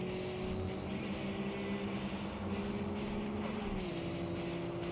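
Engine of a non-JDM historic racing car, a rival in the TXR video game, droning as a steady tonal whine that shifts pitch and drops near the end, heard alone.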